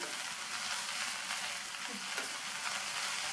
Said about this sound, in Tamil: அதை சேர்த்துட்டு அரை கைப்பிடி அளவுக்கு ஃப்ரெஷ்ஷான கொத்தமல்லி இலை இதையும் சேர்த்துட்டு நல்லா வதக்கி விட்டுக்கணும்